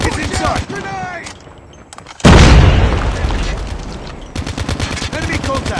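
A grenade goes off in Call of Duty Mobile, a sudden heavy boom that rumbles and decays for about two seconds, set between rapid bursts of close automatic gunfire and shouted voices.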